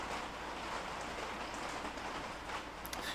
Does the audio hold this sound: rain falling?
yes